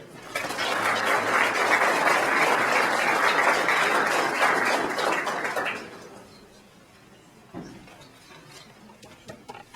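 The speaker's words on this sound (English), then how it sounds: "please give a round of applause to tonight's presenter, Mr. Scott Perry" An audience at a college lecture hall gives a sustained round of applause for the evening's presenter, loud and steady for about six seconds, then fading quickly into quiet room noise.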